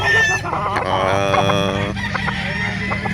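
Gamefowl roosters, including bullstags, cluck and crow loudly nearby at a fowl market in Calauan, with one drawn-out crow over a busy background of other birds.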